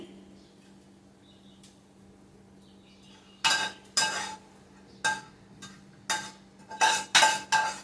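Fried food is scooped from a pan into another pot, several sharp metallic clinks and scrapes of utensil against cookware arriving one after another, close and fairly loud, after a quiet start.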